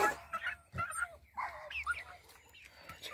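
Dogs bark back and forth around a neighborhood, giving a few sharp barks and yips at moderate distance among faint background noise, while someone nearby speaks briefly.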